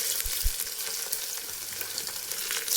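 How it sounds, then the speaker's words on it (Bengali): Fried onions (beresta) being stirred into a pot of mutton biryani, a steady close sizzle of frying with a few soft low scraping knocks near the start, no voices. "বেরেস্তা দেওয়ার পরে একটু নেড়ে চেড়ে নিলাম"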